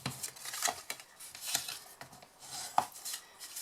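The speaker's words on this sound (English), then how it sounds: "Fold and burnish" Scored cardstock folded and burnished along its crease lines for a cottage rose favour box, giving soft rubbing and scraping strokes with a few sharper taps, close and fairly quiet with no talking.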